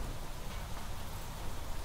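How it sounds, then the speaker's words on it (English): Steady rain falling outdoors during a Planet Crafter game session, a dense even hiss with soft low patter holding at constant level throughout, no voices. "It's raining, apologies for how loud it's gonna be outside."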